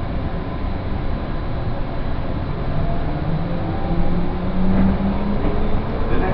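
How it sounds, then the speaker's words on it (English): An airport terminal train hums and rumbles as it pulls away, with a low droning motor and rattling carriages that stay close and fairly loud throughout. "This train is departing."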